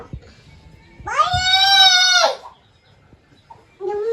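A hen with her newly hatched chicks gives a loud, drawn-out call lasting about a second, then a short quiet gap before another call begins, close by with no voices.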